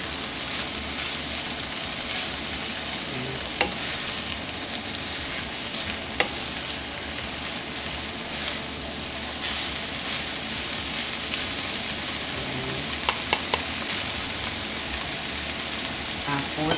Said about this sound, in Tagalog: Ayan, haluin na natin.